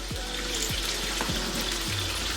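A slice of French toast frying in a pan over medium heat, a steady close sizzle with a few soft bumps and scrapes, no talking.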